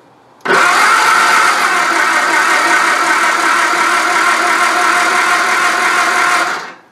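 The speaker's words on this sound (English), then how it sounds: "So I'll just keep an eye on the light and crank it up here." A Triumph Spitfire engine turns over on its starter in one long, loud, steady crank of about six seconds, with the battery bogging slightly under the load. No one speaks over it.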